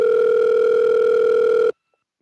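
A steady two-tone phone ringback tone sounds loud and continuous for under two seconds, then cuts off abruptly into silence.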